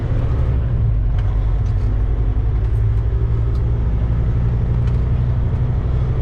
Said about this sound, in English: Way too many trucks out here